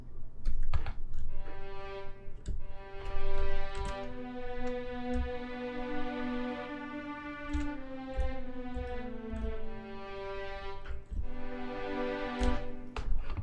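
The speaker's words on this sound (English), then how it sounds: "So here I have this primary violin section." Violin section from the Spitfire Audio BBC Symphony Orchestra sample library playing sustained, layered notes that shift pitch slowly, with faint keyboard clicks and ticks scattered throughout.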